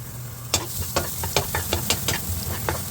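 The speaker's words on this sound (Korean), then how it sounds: "팬에 기름을 두르고 당근을 볶아봅니다" Carrots stir-fried in oil in a pan, a loud close sizzle punctuated by regular rhythmic spatula scrapes, about one every half second.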